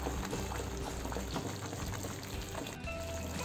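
Karachi halwa mixture with melon seeds being stirred in a pan, a steady wet bubbling and scraping that stays loud and continuous with no talking.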